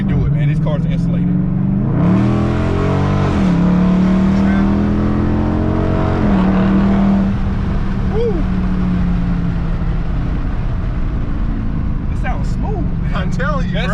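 A powerful Dodge Charger exhaust roars up close, revving hard in rising sweeps, then settling into a deep, loud idle rumble.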